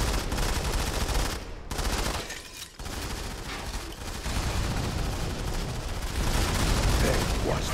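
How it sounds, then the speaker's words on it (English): Rapid video-game gunfire in the shooter Modern Combat 5, loud dense bursts of automatic fire filling the scene with only brief pauses, close and continuous. "Stop shooting my fur."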